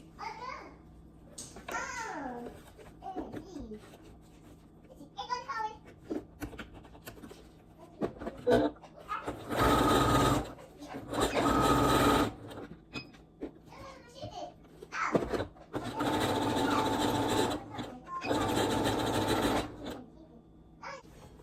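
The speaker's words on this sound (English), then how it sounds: "I put a straight stitch through it first, and then I go back through it with a zigzag" A sewing machine runs a straight stitch and then a zigzag stitch across elastic for a satin-lined bonnet, in two loud sustained bursts with quiet gaps between them. A voice is heard earlier in the clip.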